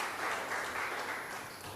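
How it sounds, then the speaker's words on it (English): An audience at a bat research conference claps after a presentation, a short, faint wash of steady applause from a crowd in a hall. "Another round of applause for the beautiful presentation"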